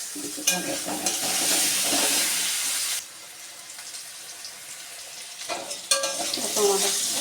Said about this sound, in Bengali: আলু আর কুমড়োটা ভাজা হয়ে গেছে